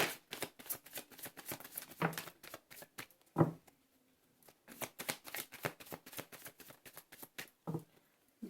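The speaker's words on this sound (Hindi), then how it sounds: "This is my last shuffle." Tarot cards shuffled by hand, a rapid run of crisp riffling flutters in bursts with a short pause midway, close and fairly quiet with no talking.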